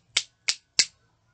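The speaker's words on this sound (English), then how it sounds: "If I snap my fingers" Three crisp finger snaps, evenly spaced about a third of a second apart, close and clear against near silence.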